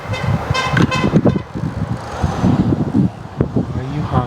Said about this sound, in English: are you honking?